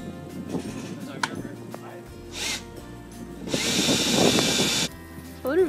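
Power tools drive fasteners to secure a wooden boat plank onto its ribs, short whirring drill bursts and a longer buzzing run amid clatter and handling noise, close by, with people talking quietly in between.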